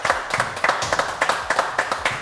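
Classmates clap for a boy named Enzo during an online training session, a quick cluster of sharp, irregular hand claps repeating close and fairly loud for a couple of seconds.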